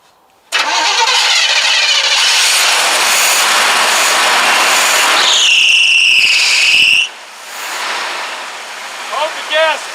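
A square body short bed pickup truck engine cranks and catches, then runs at a steady loud idle close by; a voice speaks near the end as the revs settle and drop.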